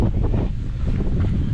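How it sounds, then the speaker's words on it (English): Strong outdoor wind buffeting a microphone at a historic site in Hayward, California, a loud, continuous low rumble and rushing noise with no voices. "sorry about the wind again, guys."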